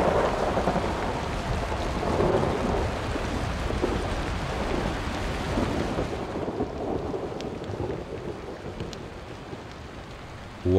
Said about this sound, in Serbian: U ovom periodu nisu retke ni nagle olujne promjene vremena sa munjama i gromovima